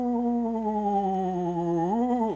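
A voice imitates a ghost's wavering ooh, a sustained sung tone with slight vibrato that slides upward near the end, heard alone.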